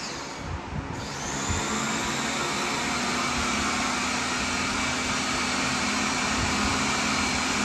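A vacuum cleaner switches on for use on a concrete floor. Its loud, steady roar builds within the first second and then runs on continuously and close.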